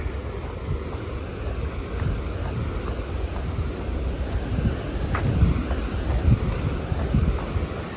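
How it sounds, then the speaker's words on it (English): Steady broadband roar of a massive waterfall heard from a mountain trail on the Pacific Crest Trail, continuous and fairly loud with no talking over it. "I hear a massive waterfall right here."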